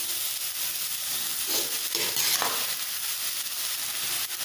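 Cabbage and boiled rice stir-fried in a pan give a steady close sizzle, with a couple of brief scraping stirs in the middle.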